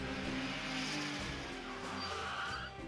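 A vehicle, a bus in the game Trails to Azure, rushes past with a loud, broad whoosh of engine and road noise that swells and fades over a few seconds.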